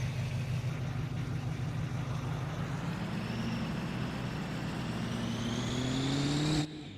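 A pickup truck's engine drones steadily while towing a trailer, rising slowly in pitch as it accelerates, heard from inside the cab, then cuts off sharply near the end.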